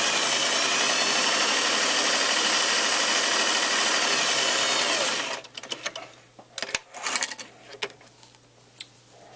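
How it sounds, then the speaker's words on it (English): Domestic sewing machine running a long basting stitch through a knit fabric sleeve cap, a steady close whir for about five seconds that then stops, followed by fabric handling and small rustles. "a basting stitch is the large stitch, and we're going to baste from notch to notch"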